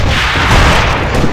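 A loud, close grenade blast in the AVA shooter game, one dense, sustained roar lasting the whole moment with no separate pops.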